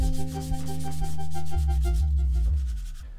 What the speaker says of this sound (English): All right, we finished the sanding.